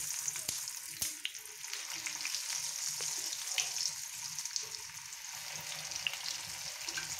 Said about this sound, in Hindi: अब कबाब फ्राई होने लगे हैं।